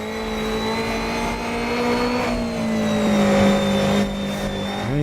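A 1960s Alfa Romeo Giulia TZ2 races the historic 1967 Nordschleife in a racing game, its engine a steady loud drone that swells and lifts in pitch as it revs through gears, with a brief upshift near the end.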